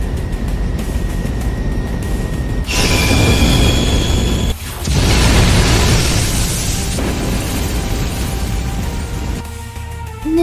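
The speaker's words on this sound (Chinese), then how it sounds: "那个烟花 是不是有点太猛了？" Fireworks explode in a loud, sustained roaring rumble that swells into heavier blasts, briefly drops off, then surges again and slowly fades.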